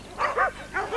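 Starving, thirsty dogs at an animal refuge give a few quick, loud barks in close succession, nearby and unaccompanied by talk.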